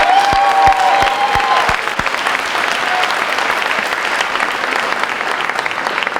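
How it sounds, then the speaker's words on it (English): A crowd at a high school senior banquet claps loudly and steadily, with a few sharp thumps and a brief tonal note early on, then sustained dense applause. "How about a huge round of applause for Dan Filer?"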